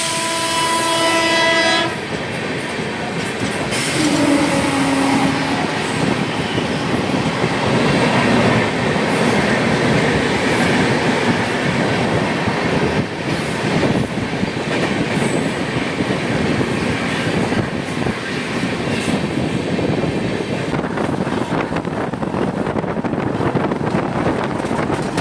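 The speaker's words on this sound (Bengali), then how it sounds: "বিকেল 3:46 ট্রেন মানমাদ জংশন রেলওয়ে স্টেশন ছেড়ে তার পরবর্তী স্টপেজ নাসিক রোড" A long-distance express leaving Manmad Junction for Nashik Road opens with a sustained horn blast, then runs on with a loud, steady rumble and rattling clickety-clack of wheels.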